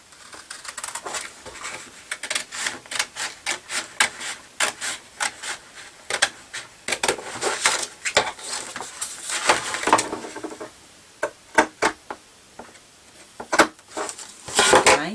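Paper for a file-folder mini scrapbook album being cut, a rapid series of sharp, crisp snips and clicks close by, bunched in bursts with brief pauses over about fifteen seconds, with no talking.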